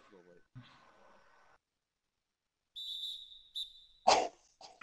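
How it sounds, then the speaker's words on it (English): A referee's whistle sounds in a basketball video game: a shrill, steady tone held for over a second, then a short second blast, with a sharp burst of voice right after and faint talk before it. "The whistle kept blowing."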